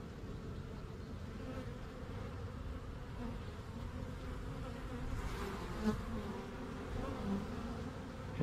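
Honeybees buzz steadily around an open beehive frame, a dense continuous drone that swells slightly midway, with no talk over it.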